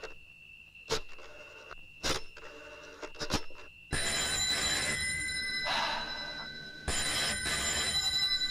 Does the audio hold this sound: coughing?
no